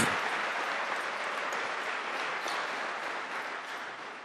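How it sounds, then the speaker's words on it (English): A high school audience applauds a town and its school in a steady, dense wash of clapping that stays fairly even and slowly fades a little over about four seconds. "how about a big round of applause for this great town and this great school?"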